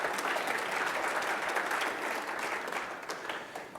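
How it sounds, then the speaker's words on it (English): A conference audience applauds the organizers, a dense, even wash of many hands clapping at close range for a few seconds before tapering slightly at the end. "Can we give them a round of applause?"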